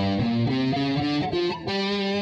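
Distorted electric guitar plays a one-octave G blues pentatonic scale, with single sustained notes stepping up and then back down at a steady pace, loud and close.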